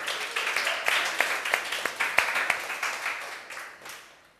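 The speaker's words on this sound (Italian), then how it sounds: "Vogliamo fare un applauso di nuovo" A group of young Pescara youth football players applauds, a dense run of quick sharp claps that swells, holds, then tapers off over a few seconds.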